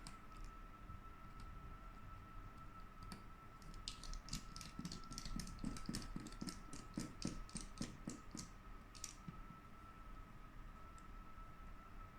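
Screws being driven into a G737 ankle tracker make a quick run of light mechanical clicks and ratcheting ticks, bunched in the middle over a steady background hum, with no talking.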